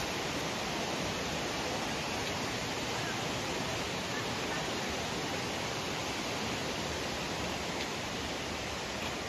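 Water pours down Changey Waterfalls near Kolakham, Kalimpong, making a constant, even, broadband rushing roar that fills the whole stretch with no breaks.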